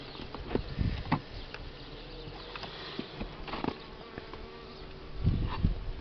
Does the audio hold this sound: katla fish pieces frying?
no